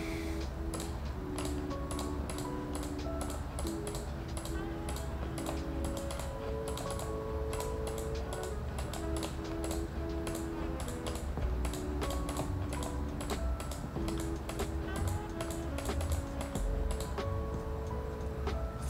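A computer mouse clicks repeatedly on targets in an online aim trainer, producing quick, sharp, close clicks in an irregular stream over a steady background.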